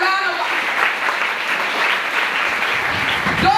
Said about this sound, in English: A round of applause, girls.